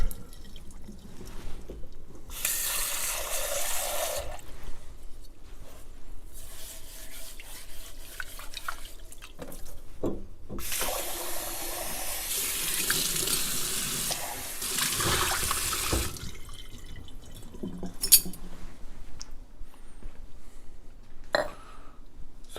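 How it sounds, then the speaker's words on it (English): Milk frother pitcher rinsed under a running kitchen tap, with bursts of water splashing into the sink in two long spells, trickling and dripping between them, close and fairly loud. "I'm going to wash this out."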